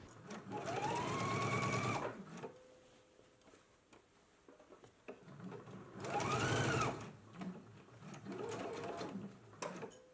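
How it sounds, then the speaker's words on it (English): A sewing machine runs a basting stitch across a shirt collar in three separate bursts, its motor whirring up and slowing, with quiet handling noise between runs and no speech. "let's go to the sewing machine and we can baste this all in place"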